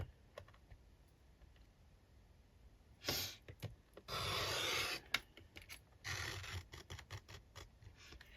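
A paper trimmer slices through a page for an altered book project, giving a few short rasping cuts and slides up close in a quiet room, with no talking.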